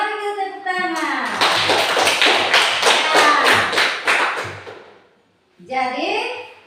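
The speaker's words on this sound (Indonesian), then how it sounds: "Mari kita tepuk tangan." Children in a classroom clap hands in a quick burst of rhythmic claps, with young voices speaking before and after the clapping.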